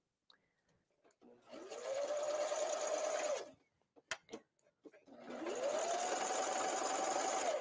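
An electric sewing machine stitches a sleeve in two sustained whirring runs, close and steady, separated by a short pause with a few clicks and handling noises.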